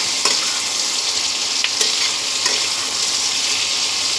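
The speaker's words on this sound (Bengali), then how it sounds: "আলু পেঁয়াজটা ভাজা করে নেব।" Potatoes and onions fry over a high gas flame in a pan, a steady close hiss of sizzling with a few sharp scrapes of stirring, with no voices.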